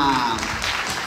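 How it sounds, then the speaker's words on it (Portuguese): Studio audience applause on a Brazilian talent show greeting a young performer, short clapping mixed with voices and tonal sounds from the stage. "Salve de palmas para Letícia Helena!"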